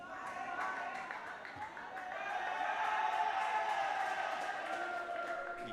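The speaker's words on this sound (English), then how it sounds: "The FEU crowd trying to get behind their team." An FEU crowd cheers at a university football match against Club de Futbol Manila, a distant steady roar with scattered claps under a commentator's voice.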